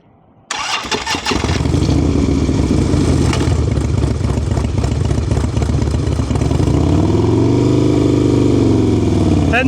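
A motorcycle engine starts after a brief quiet moment, then runs loud and steady at close range during a riding lesson, its pitch rising and falling as throttle and clutch are worked, with faint speech in the background.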